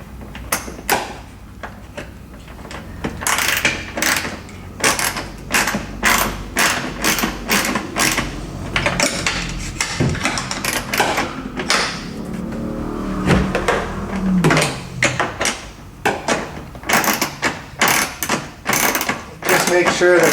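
A 10mm socket wrench tightening a nut on a seat height bracket, with rapid repeated ratcheting clicks in bursts, close and fairly loud, and a short pause partway through.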